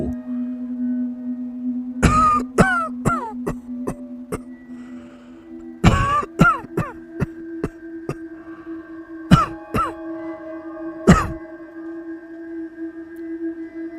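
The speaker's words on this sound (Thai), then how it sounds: "มีเพียงเสียงกระแอมไอดังออกมา ให้รู้ว่ามีคนอยู่ในห้องขังข้าง ๆ" Several bursts of throat clearing and coughing, in clusters of short rough hacks separated by pauses, over a steady low hum.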